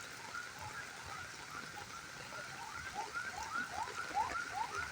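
Steady heavy rain falls across an empty park as a constant hiss, with faint chirping tones rising over it toward the end and no voices.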